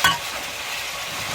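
Oxtail pieces sizzle and brown in a hot pot over high heat as they are stirred, a loud, close, steady frying hiss with a brief scrape at the start.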